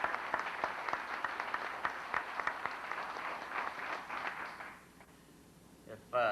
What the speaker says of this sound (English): let's applaud their support in their absence.